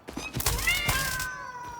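In Satisfactory with arachnophobia mode on, cats meow loudly and close, a rising then falling meow after a few thumps and hits, ending in a thin sustained tone.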